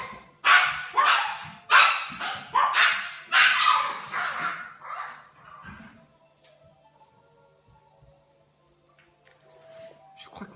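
A dog barks loudly and close up in a rapid run of about eight sharp barks, then stops, leaving a quiet room with faint background noise.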